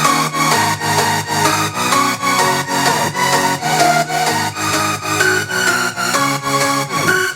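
A dance track's full arrangement plays with layered pianos and leads together over a steady pulsing beat, loud and dense, with repeating chord stabs and no voices.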